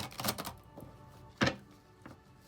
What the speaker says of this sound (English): Like I'm having so much trouble shuffling these cards.